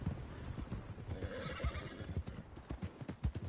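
Horse hooves clip-clop at a steady walking pace in the video game Red Dead Redemption 2, with a whinny rising over the rhythmic footfalls, close and clear.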